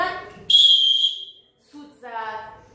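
A voice imitates a train whistle with a long, loud, shrill tone, then a falling whoop-like call after a short pause, following brief speech.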